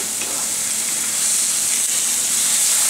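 Liver and onions fry in a pan as the pieces are turned, giving a steady, loud, hissing sizzle that grows slightly stronger toward the end, with no voices.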